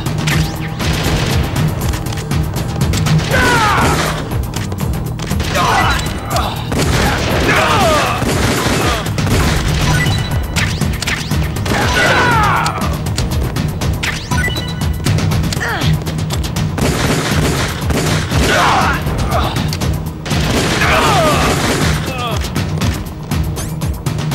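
Dense video game gunfire from Metal Gear Solid: The Twin Snakes, a steady loud barrage of shots and impacts running throughout, with bursts of heavier crashes layered over game sound and occasional voices.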